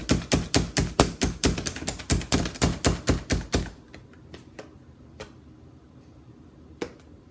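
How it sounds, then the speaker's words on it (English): A knife chops food on a cutting board in about twenty quick, loud, evenly spaced strikes, then stops, followed by a few scattered faint taps. "and then we're gonna just chop it up"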